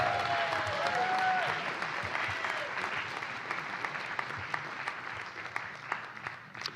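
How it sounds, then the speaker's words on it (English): A university awards ceremony audience applauds an honoree, sustained clapping from a large crowd in a hall that holds steady, then gradually thins and tapers, with a few scattered claps near the end. "How about a big round of applause for Rosie Aligado."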